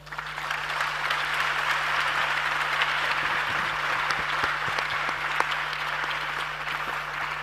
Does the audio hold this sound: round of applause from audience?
yes